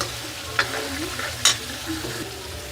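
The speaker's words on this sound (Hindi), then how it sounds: "ये देखिए हमारा मसाला तेल छोड़ने लगा है। इसको 2 मिनट और पकाएंगे।" Chicken masala frying in oil sizzles steadily up close, with two sharp spoon clicks against the pan and light stirring scrapes over the hiss, no one speaking.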